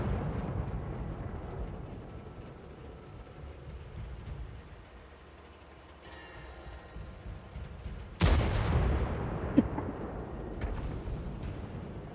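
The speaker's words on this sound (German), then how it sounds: "So, ich schieß mal rein." A tank cannon fires in a tank video game: one sudden, loud, sharp blast cuts through a low rumbling background and then trails off into continued engine-like noise.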